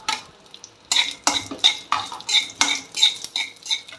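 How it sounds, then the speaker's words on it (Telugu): Pieces of ivy gourd being stirred into a tempering of cumin, urad dal, chana dal and dried red chilli in a pan, with a spoon scraping and clinking in a steady rhythm of about ten strokes, close and clear. "ఇప్పుడు ముక్కలు పోపు దినుసుల్లో వేసేసుకుందాం."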